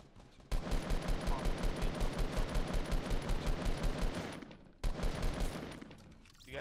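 Rapid automatic gunfire in Fortnite Battle Royale, a loud, evenly spaced stream of shots that briefly stops and then resumes in another burst.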